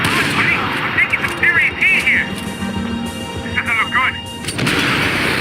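Gunfire in the video game Max Payne 3 on hard mode: several sharp shots and bursts spread across the span at close range, with someone talking over them.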